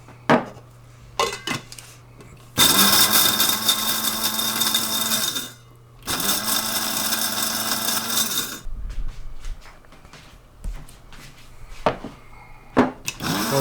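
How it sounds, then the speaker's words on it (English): A small blender grinds Burmese prawn curry ingredients in two loud whirring bursts of a few seconds each, with clicks and handling knocks before, between and after. "reasonable amount into the blender to actually grind them up"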